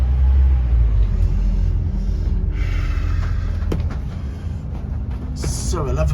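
A 2009 Scania N270UD OMNICity bus engine rumbles steadily from inside while riding, a loud low drone throughout with brief rattles and hissing near the end.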